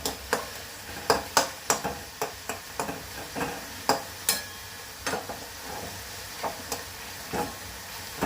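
Spinach frying in a pan with a green chili: a steady close sizzle punctuated by a dozen or so sharp, irregular clacks of a spatula stirring against the pan, with no talking.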